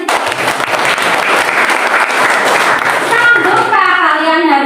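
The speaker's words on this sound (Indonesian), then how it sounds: "Tepuk tangan dulu." A classroom of students claps together in a loud, close burst of applause that thins out toward the end, where a voice and other talking come through.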